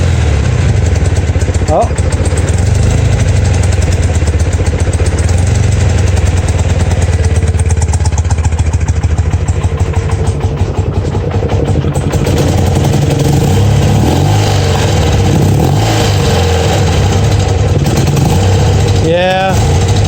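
A BMW R90/6 motorcycle engine idles loud and close on choke, with a steady throbbing clatter that shifts slightly partway through, and a voice speaks briefly.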